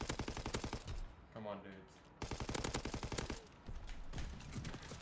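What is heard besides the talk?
strafing run machine gun fire in Call of Duty video game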